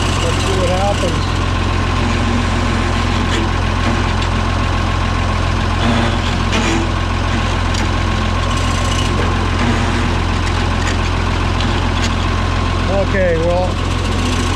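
A Cockshutt 1850 tractor engine idles steadily and loudly for the whole stretch, a deep continuous rumble with vibration and no clear revving.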